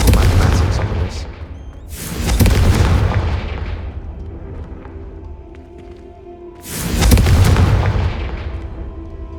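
A Confringo spell blast in the Hogwarts Legacy video game, made up of two loud booming explosions a few seconds apart, each with a long rumbling decay, with quieter game sounds in between.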